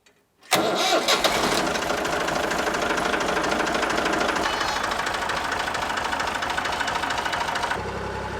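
A tractor engine cranks and catches, then runs at a steady, loud rumbling idle close by for several seconds before the tone drops slightly at the end.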